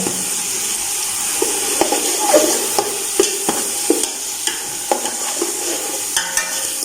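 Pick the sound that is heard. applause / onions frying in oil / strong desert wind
onions frying in oil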